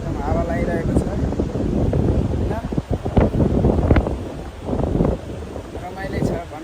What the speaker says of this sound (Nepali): एकदम हावा लागिरहेको छ होइन